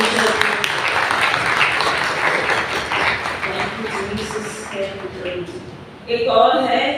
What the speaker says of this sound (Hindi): सो हम सब लोग इस आनंद में सहभागी हों और जोरदार ताली अपने परमेश्वर को।